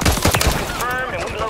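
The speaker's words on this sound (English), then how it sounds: "I'm getting shot in the back" Gunfire in Warzone ranked on Fortunes Keep, a quick rapid burst of close shots over game noise, tapering off, with a player talking.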